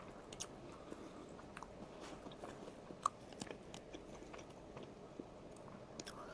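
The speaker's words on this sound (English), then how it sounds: "Why is it so crunchy? That sounds like her teeth. Oh, it's the crispy chicken." Faint, close bites and chewing of breaded crispy chicken, with soft irregular crunches and mouth sounds over a quiet background and no talking.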